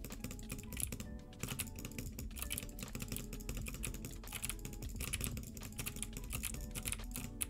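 Rapid, dense clicking of keys on a computer keyboard during a boxing video game, continuous fast bursts throughout, loud and close with no talking.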